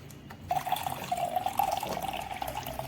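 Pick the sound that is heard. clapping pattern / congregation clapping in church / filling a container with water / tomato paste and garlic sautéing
filling a container with water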